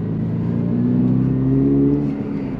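Toyota GR86 or Subaru BRZ accelerating gently from inside the cabin, a steady, droning engine note rising smoothly in pitch over a couple of seconds with no talk.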